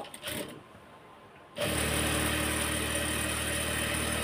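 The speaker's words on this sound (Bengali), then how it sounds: "এই যে এখন আরেকটা মুখে মুখে সেলাই দিব।" A sewing machine running steadily while stitching a salwar seam, starting after a short quiet pause with a few faint handling sounds, then a continuous close, even mechanical whir through to the end.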